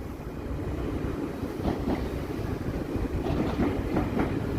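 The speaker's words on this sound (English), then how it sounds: "Got a GO train." A GO commuter train rolls past at night in Toronto, a continuous rumble of wheels on rails with rhythmic clickety-clack beats, moderately near and steady throughout.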